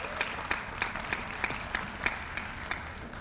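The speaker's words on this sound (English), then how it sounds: "Please give them a round of applause." Audience applause at an Essex County freeholder meeting, a steady round of clapping that holds at a moderate level for the whole stretch without any talk over it.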